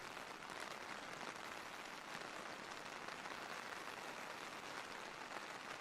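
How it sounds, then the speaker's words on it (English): Steady, dense rain pattering in the video game Absent in the Rain, a continuous soft hiss of drops with no pauses or talk. "Don't you love the sound of the rain?"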